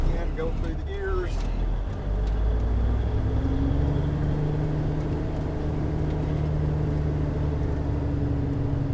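A 1977 International Transtar cabover truck's diesel engine running loud and close at around 1,500 rpm, a steady droning rumble with a brief shift in pitch as gears change, a voice speaking over it at the start.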